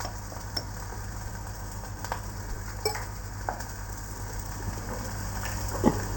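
Onion and potato for a potato bhaji frying in a pan: a steady close sizzle with occasional light stirring scrapes and ticks, continuous throughout with no talking.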